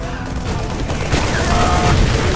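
A StarCraft II siege tank shells a bunker in a GSL match, giving dense, loud booming shots and battle noise that run continuously through the short stretch.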